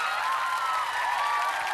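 Studio audience at a Korean TV comedy show breaks into sustained applause, steady dense clapping heard alone throughout.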